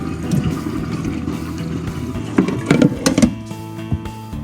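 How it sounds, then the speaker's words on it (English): Water from washed potatoes pours out of a bowl, a short gurgling splash with a few louder sloshing bursts near the end, close and fairly quiet. "you're gonna wanna dump all the water out the bowl"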